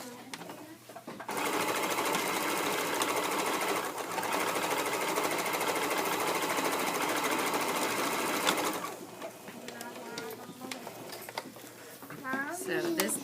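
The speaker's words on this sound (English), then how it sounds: "So I just sew up the seams and it works great" A home sewing machine stitching the seams of a wool soaker: loud continuous whirring for several seconds with a brief pause, then stopping, followed by someone talking over faint handling noise.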